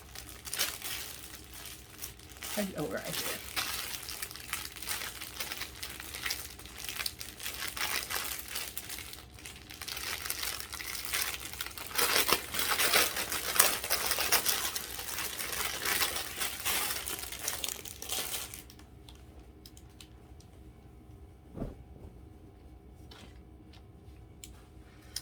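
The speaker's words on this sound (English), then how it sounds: "Let me finish rattling the paper." Packaging paper from a Shein clothing unboxing crinkles and rattles loudly and nearly without pause for most of the stretch, then drops to quiet handling, with a brief spoken remark.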